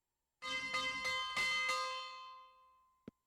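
A bell rings out several times in quick succession, bright and resonant, then fades in a long decay, followed by a brief soft knock.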